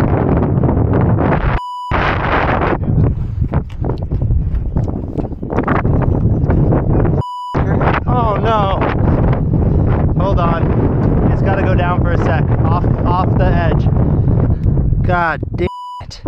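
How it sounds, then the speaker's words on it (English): Strong wind of over 20 mph buffeting the microphone during a hangar roof build, a loud continuous roar and rumble throughout with several brief dropouts and faint beeps and voices beneath. "you're looking at 20 plus mile an hour wind"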